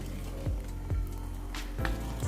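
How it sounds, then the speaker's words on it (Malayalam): A pot of pepper rasam bubbles on the stove, a soft steady simmer broken by a few low gurgling pops at irregular intervals, close and fairly quiet. "തിളച്ചു"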